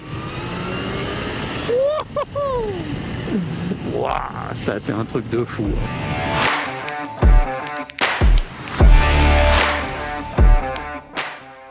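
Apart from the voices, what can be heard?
Kawasaki ZH2 SE supercharged motorcycle accelerating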